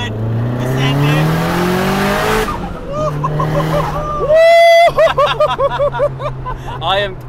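A Nissan S15 Silvia with a 450-horsepower built SR20 turbo engine drives hard, its engine droning loudly then revving sharply through gear changes with rising whines, while people talk inside the car.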